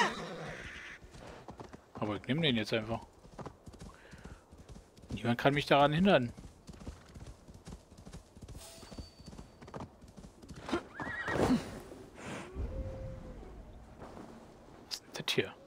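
In Assassin's Creed Valhalla, a horse whinnies in two loud, quavering calls between clopping hooves and other game sounds, while someone talks quietly over the scene.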